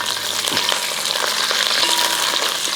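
Curry leaves frying in oil with fried onions for chicken perattu, a steady loud sizzle with scattered crackles and pops and a few stirring scrapes, no voices.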